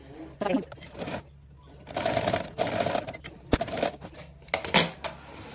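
A sewing machine stitches fabric during a home sewing class, giving short bursts of fast mechanical clatter separated by pauses, with light handling noises between them.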